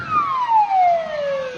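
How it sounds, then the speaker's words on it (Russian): A fire engine siren arrives at the scene where a plane carrying skydivers crashed near Menzelinsk, Tatarstan. It is one loud, steady wailing tone that slides slowly downward, with road rumble underneath and no talking. "Пожарная подъехала."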